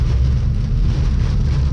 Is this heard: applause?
no